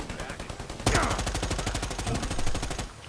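Rapid automatic gunfire in the video game Predator Hunting Grounds, a fast steady burst of close, loud shots rattling for about two seconds after a short lead-in.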